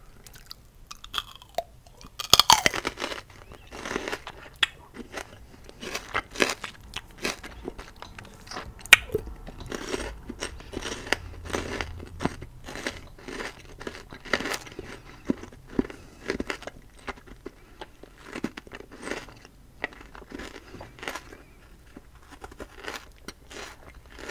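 Crisp bites and chewing of crunchy mini apple-like fruit sprinkled with salt, close and intimate, with repeated crunching bursts and wet mastication in an irregular rhythm and no talking.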